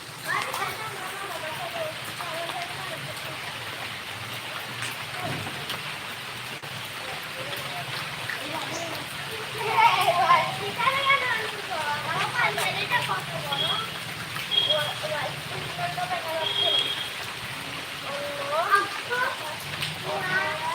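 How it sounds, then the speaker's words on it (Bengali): Light drizzling rain pattering steadily outdoors as a soft continuous hiss, with children and adults talking and chattering over it. "টিপ টিপ বৃষ্টিতে"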